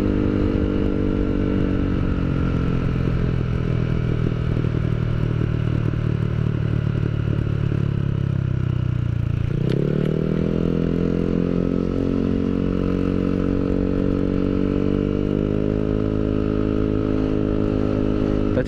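A Yamaha Aerox 155 scooter with a new aftermarket exhaust is ridden, its engine a steady droning hum that dips briefly midway, then climbs back into a smooth, rising whir, loud and close throughout.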